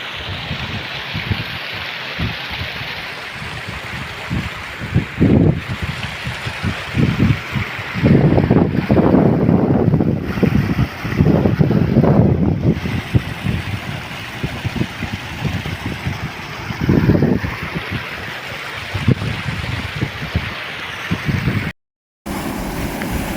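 River water let into the Megal river near Maliya by an irrigation scheme rushes in a loud, continuous wash, rising in turbulent surges with heavy wind buffeting the microphone and a brief dropout near the end.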